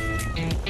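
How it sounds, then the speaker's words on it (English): A pet cat named Jack gives a short meow, close and fairly loud, heard alone with no talking. "It's Cardi B's Cat of the Week."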